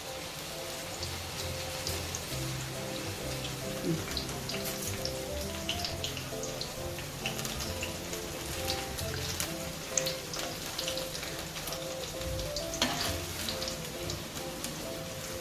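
Cabbage pakodi frying in Nityam oil until light brown, a steady dense crackle and sizzle of hot oil running evenly throughout with no talk over it.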